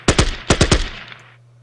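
Five sharp gunshot bursts from the Battle Academy strategy game, fired in two quick groups with a steady low hum beneath and a fading tail, no talking.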